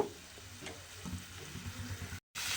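Spice paste sautéing in a pan for a fritter curry, a soft steady sizzle with faint stirring, briefly cutting out near the end.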